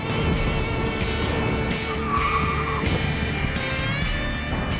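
During a MythBusters drive shaft pole vault test, a car's tires squeal and skid in short streaky bursts over a steady loud engine and road rumble, close by, with no talk.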